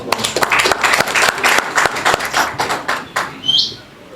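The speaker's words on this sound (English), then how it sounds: "Let's give him a hand of applause." Audience applause at a boxing press conference for the Michael Ansah vs Sheriff Quaye trilogy, a dense burst of many hands clapping with sharp individual claps, fading out near the end while a brief bird chirp rises.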